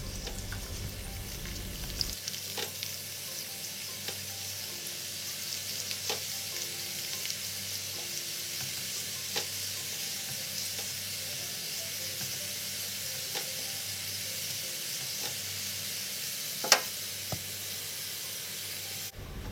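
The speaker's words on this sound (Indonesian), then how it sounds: "Kulit pangsit yang sudah dipotong-potong kecil digoreng sampai warnanya kecoklatan." Small pieces of cut wonton skin deep frying in hot oil give a steady, close, bubbling sizzle and hiss, with a few faint clinks scattered through and one sharper tap near the end.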